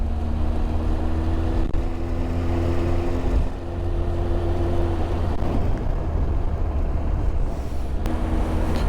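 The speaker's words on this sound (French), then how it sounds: "fait un drôle de bruit cette bécane." A motorcycle engine running with an odd noise gives a steady, close droning hum with a sustained whine over it, staying loud and even throughout with no talking.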